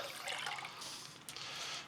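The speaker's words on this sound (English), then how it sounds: "And we're going to pour it into both of these." Water poured into two baking dishes of tomato sauce while assembling baked ziti, a soft, fairly faint steady splashing trickle that runs alone for a couple of seconds with a brief louder splash near the end.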